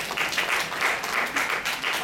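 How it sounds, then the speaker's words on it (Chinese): A crowd at a college guitar club concert applauds to welcome the next performer, a short burst of close, dense clapping from many people with a lively, uneven rhythm. "掌声欢迎"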